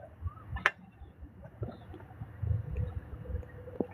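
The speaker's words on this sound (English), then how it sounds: "I've got some animatronic birds, and I put them in the tree before I started." Animatronic birds placed in a tree give faint, scattered chirps and clucking calls amid low background rumble and handling noise, with one sharper squeak standing out early.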